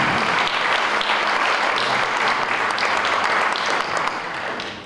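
Audience applause at a Dačice town award ceremony for a 2022 culture-category recipient: dense, steady clapping from a large crowd, loud and continuous throughout, easing slightly near the end.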